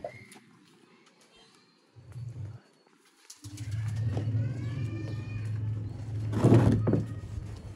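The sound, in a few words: pigeons cooing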